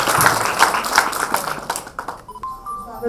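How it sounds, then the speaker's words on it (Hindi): An audience at a poetry and mother-tongue discussion event applauds after a speech, a brisk burst of many hands clapping that fades out within a few seconds, leaving a quiet room. "आपके विचार सबके लिए एक बार ताली बजा दीजिए।"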